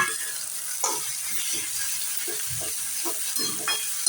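Tomatoes with red chili powder and turmeric sizzle in a pan for a cauliflower and pea dish, a faint steady hiss broken by intermittent scraping stir sounds, close up with no talking.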